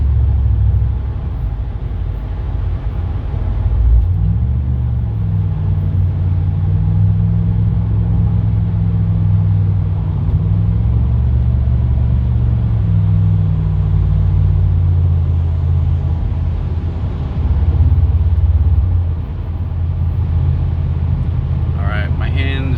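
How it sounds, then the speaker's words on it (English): A 2009 Chevy Impala SS cruising down a road, its steady low engine and road rumble continuous throughout, with someone talking over it. "The car's driving very straight."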